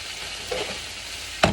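Garlic for a tofu scramble sizzles softly in a pan, a quiet steady fry with a light stir midway and a sharp clack of a utensil near the end.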